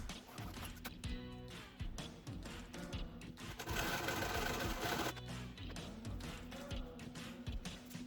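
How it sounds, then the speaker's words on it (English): A sewing machine stitching quilt fabric along a drawn slanted line, its rapid mechanical whirring and clatter running steadily in close bursts with a brief louder stretch midway. "I'm going to sew along that line"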